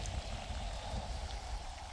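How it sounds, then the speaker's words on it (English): Steady rain pours down at a bridge in a continuous, even hiss with low rumbling patter, nearby and fairly loud throughout. "Oh, come on, stop raining"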